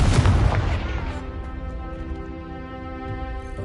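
A Confringo blasting spell explodes in the Hogwarts Legacy video game, a loud booming burst up front that rolls off into a long, ringing magical decay.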